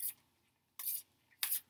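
A deck of cards being shuffled, heard as three short, crisp riffling bursts separated by brief pauses, close and fairly quiet.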